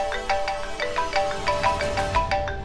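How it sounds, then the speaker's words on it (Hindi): A phone ringtone rings in a repeating melodic pattern of short bright tones, loud and steady throughout, with no talking over it. "ओहो, अब किसका फोन?"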